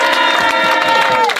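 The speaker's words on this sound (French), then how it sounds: "merci à vous, on peut tous applaudir déjà" Supporters of a French team cheer and applaud loudly after a victory in Mirecourt, a dense, close crowd roar with shouts over clapping, sustained through the whole moment.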